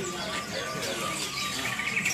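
Many small birds chirp and tweet together inside a bird shop, a busy mix of overlapping calls with faint background voices underneath.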